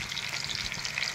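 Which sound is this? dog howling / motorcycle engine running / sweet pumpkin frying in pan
sweet pumpkin frying in pan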